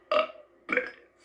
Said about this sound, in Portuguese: Eu sei arrotar o alfabeto.